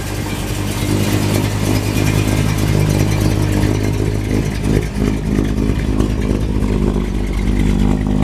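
1958 Chevrolet Bel Air V8 with a slightly lumpy cam idling and revving through dual exhaust, a loud, steady low rumble that swells and dips with throttle blips, close by and with no talk over it.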